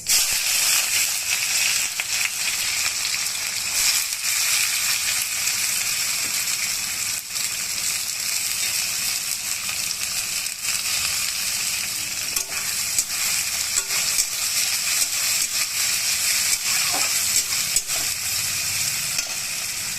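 Onions fry in hot oil with asafoetida and cumin, a loud, steady sizzle with crackles and occasional scraping stirs throughout, close and without talk.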